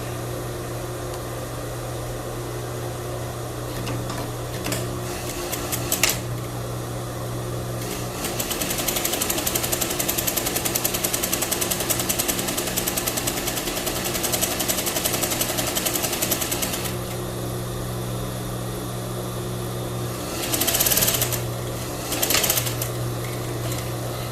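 A sewing machine stitches a rolled hem on a crepe sleeve, running in several bursts of rapid, rattling needle strokes with short pauses between, over a steady background hum.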